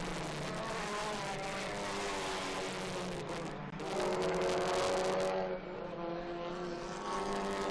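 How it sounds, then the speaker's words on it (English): Honda TCR touring race cars battle at the Jarama circuit, their engines droning with rising and falling pitch as they pass, one swelling louder midway before fading, heard at a moderate distance. "A good battle between them as the two Hondas at the bottom end of the top 10, Coronel and Girolami."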